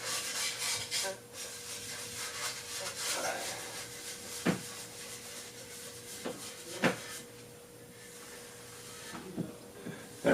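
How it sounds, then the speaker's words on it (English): Wudtone stain being rubbed by hand into a wooden guitar body for a partscaster build, close soft rubbing and scraping strokes with a few sharp knocks, occasional faint voice in the background. "So I'm just going to rub some in. I'm going to rub it in."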